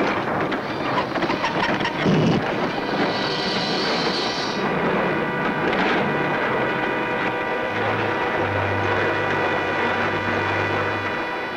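A train rumbles along steadily with rolling, rhythmic rail noise under dramatic cartoon music, the sound shifting as the last car is uncoupled and drifts loose.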